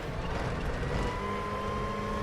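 Front-wheel-drive WTCC 2014 touring car engine in the R3E racing game at Macau, a steady loud drone under throttle with a rising whine building through the second half, no talk.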